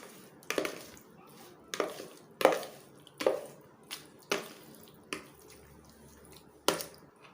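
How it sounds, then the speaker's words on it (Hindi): Pizza dough ingredients with two spoons of yogurt are stirred by hand in a bowl: a run of distinct wet slapping strokes, about eight, spaced unevenly at roughly one per second, close and otherwise quiet. "2 चम्मच दही के मैंने लिए हैं, ये भी इसमें शामिल करते हैं। इन्हें अच्छी तरह से मिक्स कर लेते हैं।"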